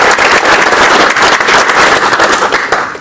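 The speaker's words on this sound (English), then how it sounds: "So please give them a round of applause." Audience applauding the board and executive at a 2015 annual general meeting, a dense, steady wash of clapping from a large crowd lasting about three seconds before tapering slightly at the end.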